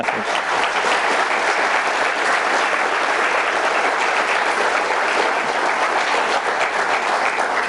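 An audience at a 2015 State of the City address breaks into sustained applause, a dense, even roar of clapping that holds steady and loud throughout.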